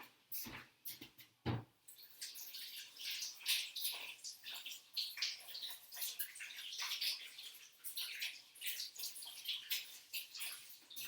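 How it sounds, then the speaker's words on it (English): Cold water runs from a tap as someone washes butter and pastry dough off their hands in a kitchen, a close, continuous splashing hiss with uneven bursts and a couple of sharp knocks at the start. "In a sec, I'm going to wash my hands"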